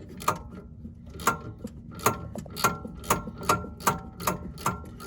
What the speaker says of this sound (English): Just give me the ratchet.